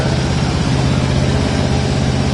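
A 1968 Chevrolet Camaro's V8 with a solid lifter cam runs strong, giving a loud, steady low rumble that holds evenly for a couple of seconds with no talk over it.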